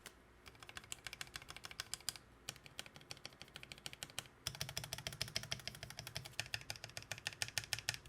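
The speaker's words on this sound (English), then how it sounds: "The spacebar wasn't sounding exactly how I wanted it to" Keys clatter in quick, irregular bursts on a Tofu65 custom keyboard fitted with Gateron Milky Yellow switches, close and crisp, with a short pause midway before denser typing resumes.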